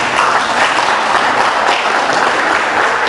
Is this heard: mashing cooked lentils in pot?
no